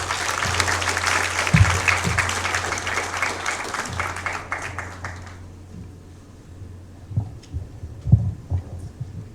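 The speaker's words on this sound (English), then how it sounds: "Let's give her a round of applause." Audience at a Philippine mining industry forum giving sustained applause for the incoming speaker, loud and full for about five seconds before fading out, leaving low thumps and room hum.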